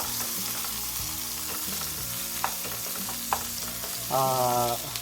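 Garlic and onion sautéing in a pan for a chayote-shoot dish, a steady close sizzle with a few stirring clicks and a louder hiss near the end; no one speaks.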